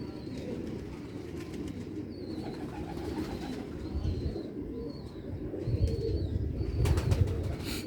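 Pigeons coo softly in a low, murmuring background, with faint chirps and rustling throughout; no talking.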